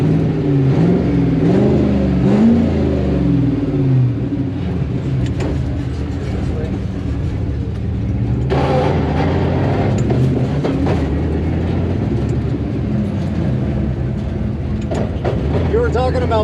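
Drift car driving straight on a track at a Gridlife event, engine droning loud and steady throughout with rattling and bouncing mechanical noise, and people talking over it.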